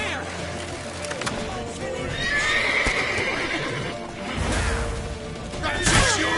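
Horses gallop and neigh loudly amid crashing action effects in the video game The Witcher 3, with shouted voices breaking in over the commotion.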